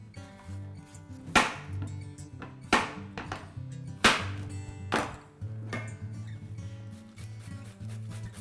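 Zucchini being grated into a dish with onion for zucchini pasta, heard as several sharp, loud scraping strokes spaced irregularly over steady background music.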